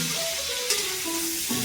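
Drumsticks (sajna) fry in a pan with a short, steady hiss of oil, and a faint tonal hum runs along beneath it.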